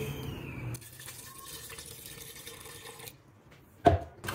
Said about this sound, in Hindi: अब हम दाल के लेवल जितना पानी डाल देंगे